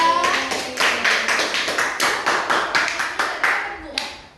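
A small group in a classroom claps in a steady rhythm, about four claps per second, close and fairly loud, with a voice briefly at the start.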